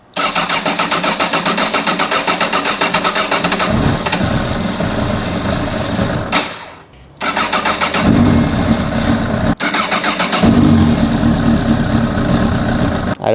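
A motorcycle engine cranks loudly and catches in rough bursts, then cuts out briefly near the middle and cranks and sputters again, close and alone.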